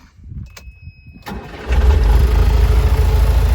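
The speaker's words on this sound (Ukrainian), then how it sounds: "Запускаємо трактор." A farm tractor in a field before seeding with fertilizer: a few soft clicks and a short starter crank, then the engine catches into a loud, close, steady low idle.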